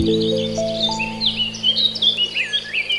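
Several birds chirp and tweet in quick, high overlapping calls over a low steady hum in a tropical mountain forest on the Kawah Ratu trail via Cidahu, fairly close and clear.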